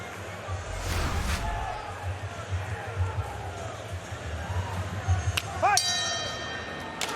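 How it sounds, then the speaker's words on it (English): A bell marks the start of round two at a women's MMA bout, a few sharp metallic dings rising over crowd noise and a commentator's voice near the end. "The bell in round two."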